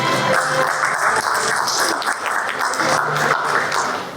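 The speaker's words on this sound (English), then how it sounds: "Little applause, audience." An audience at the Oman Leadership Awards 2023 ceremony claps in a sustained burst of applause, steady and fairly close for several seconds.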